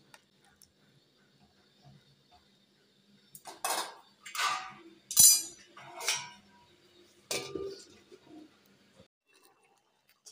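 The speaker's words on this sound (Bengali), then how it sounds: "আমার গরম জলটা দিয়ে হালকা নেড়ে নিয়ে আমি ঢাকা দিয়ে দিচ্ছি।" Chicken being stirred in a cooking pot with hot water, then covered with a lid: a handful of separate clattering clinks and scrapes of metal cookware, moderately close, with quiet gaps between them.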